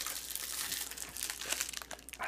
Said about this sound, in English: unwrap it, take it out of the plastic pack, you see. Get rid of the plastic.